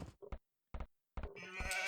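Short sheep bleats from Age of Empires 2, a strategy game played as the Vikings on the Arabia map, come in several quick separate calls and then run into a denser, brighter burst at the end.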